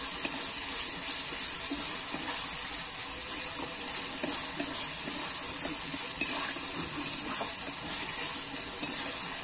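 Green peas frying in a pan and being stirred, a steady even hiss with faint scattered scrapes throughout, close and fairly loud.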